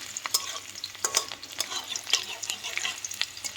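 Bay leaves frying in hot oil while being stirred, giving a light crackling sizzle broken by frequent quick scraping strokes of a spoon, close with no talk.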